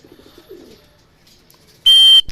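Racing pigeon arriving home to its loft after an 80 km training flight, with faint cooing and wing movement followed by a sudden loud, sharp electronic beep near the end.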